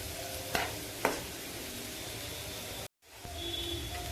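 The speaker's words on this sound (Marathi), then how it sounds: "हा मसाला पण चांगला फ्राय करून घेऊ।" Masala with salt sizzling and frying in a pan for dhaba-style paneer butter masala, a steady hiss with two sharp scrapes of the spoon stirring it, then a brief break before the sizzle resumes.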